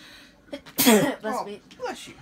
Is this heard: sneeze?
yes